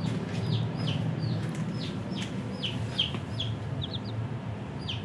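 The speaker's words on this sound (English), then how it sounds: "We're gonna go ahead and move these 5 chickens out to the brooder." Five-day-old chicks being moved to a brooder give a run of soft, high cheeping peeps over a low rumbling background, fairly faint and fairly close.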